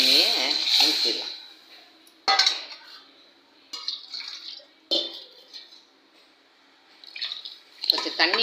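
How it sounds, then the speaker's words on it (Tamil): Dal water is poured into a pan of sautéed onions for Tamil milagai killi sambar, with watery splashes, drips and a few sharp clinks of utensils against the pot at close range. "இப்போ இந்த பருப்பு தண்ணியை ஊற்றிடலாம்."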